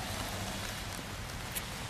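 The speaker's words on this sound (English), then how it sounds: "The umbrella's keeping pretty much everything dry on the cart except the front of the cart, but Molly's little windshield down there is" Rain falling on an umbrella over a food cart on a rainy day in Chattanooga, a dense, even patter that stays steady and fairly soft throughout, with no talking.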